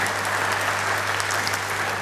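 A church congregation claps together at a worship service, a steady, dense wash of applause lasting a couple of seconds with no break.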